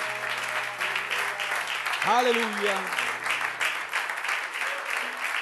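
Clapping from a church congregation fills the room throughout, with a sustained tone beneath and a voice calling out briefly in the middle.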